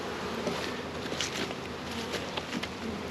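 Dense, steady buzzing of many honey bees close by inside a swarm trap, a continuous insect drone with slight flickers, no voices.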